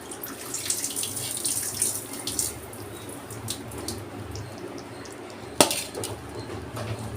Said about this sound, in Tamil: நான் வந்துட்டு தண்ணியை வடிகட்டிடுறேன்